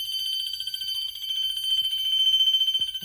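A fire alarm bell rings steadily and loudly during a system test, a continuous metallic tone held for the whole stretch with a few faint background knocks and no talking.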